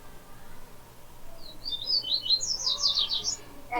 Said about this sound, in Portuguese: Tem um passarinho cantando bonito aí.